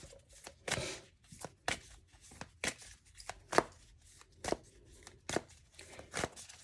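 Tarot cards shuffled and riffled by hand in sharp, repeated bursts of snapping and flicking, fairly close and crisp, with short pauses between each burst and no talking.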